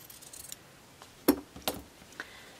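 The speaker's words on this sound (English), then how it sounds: "I'm going to just cut out" Scissors snip through Aquarelle fabric for a quilted hoodie, a couple of crisp close cuts followed by a softer one, quiet and without talking.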